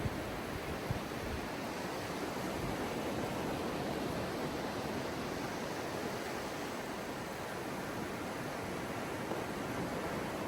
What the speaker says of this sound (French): Ça ressemble au bruit des vagues de l'océan juste derrière nous aujourd'hui.